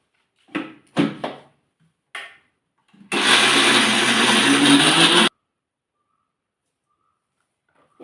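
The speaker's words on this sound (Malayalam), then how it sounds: "ഇനി ഈ കപ്പ മിക്സിക്കകത്തിട്ട് കറക്കിയത്" A mixer grinder whirs loudly through a short run of about two seconds as it grinds tapioca, starting abruptly and cutting off, after brief speech and clatter at the start and then silence.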